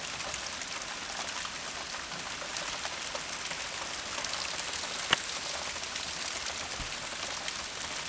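Steady rain falls on hard surfaces, a constant fine patter with scattered louder drips, close by and even in level, with no voices.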